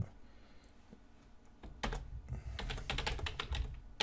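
Typing a password on a computer keyboard: rapid bursts of close, crisp keystrokes, sparse at first and then a dense run of clicking, over a low background hum.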